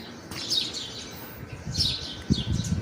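Several small birds chirp and tweet in short bright bursts near a nest with chicks, heard fairly close against a quiet outdoor background.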